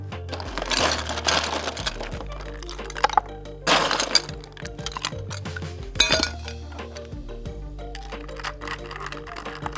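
Ice clinking and clattering into a cocktail glass during drink preparation with mint and soda, several bright chinks and small cracks over faint background sounds.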